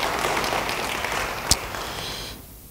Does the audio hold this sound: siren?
no